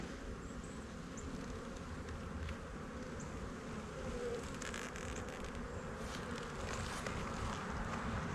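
Dense, steady buzzing of many honey bees up close at an open hive, a continuous swarm hum with no talking.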